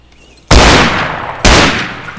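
Two loud gunshots in Arma 3 ring out about a second apart, each a sharp blast followed by a lingering echoing tail.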